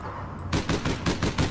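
Automatic weapon fire in the video game APB Reloaded: a short burst of about six evenly spaced, loud, punchy shots after a brief quiet lead-in.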